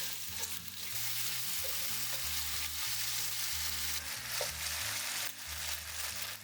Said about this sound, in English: Slide the shrimp into the hot shrimp scented oil and stir fry over medium heat